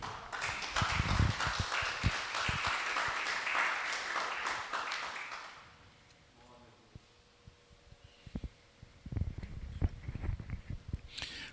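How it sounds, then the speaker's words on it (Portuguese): A church congregation bursts into loud, sustained applause that runs for several seconds, then fades to a quiet lull before a few scattered claps and knocks return, with a voice speaking near the end. "Aplauda o Senhor."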